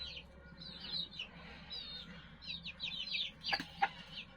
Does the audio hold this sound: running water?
no